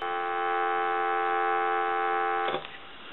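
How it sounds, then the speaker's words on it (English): A steady dial tone from a Western Electric Princess Touch Tone telephone hums continuously, clear and even, then cuts off abruptly near the end with a brief click. "Give you some dial tone."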